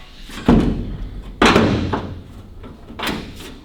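Doors of a 1941 Kubelwagen under restoration open and shut, producing three close, solid metallic thuds spaced about a second apart, each with a short ringing decay.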